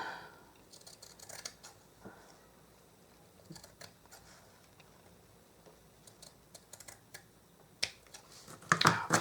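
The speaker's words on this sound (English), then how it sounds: "But first I know I have to cut off this length of fabric." Fabric being cut to length with scissors during home decorating work, heard as scattered quiet snips and rustles with a louder burst of crisp cutting near the end.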